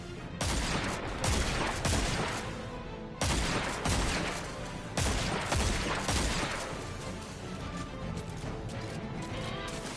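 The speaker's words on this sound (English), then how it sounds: "Oh, the turrets have a manual mode." Turret in manual mode in Destiny 2 firing loud rapid bursts of heavy gunfire with crashing impacts, several volleys separated by short gaps, close and dominant with no voices.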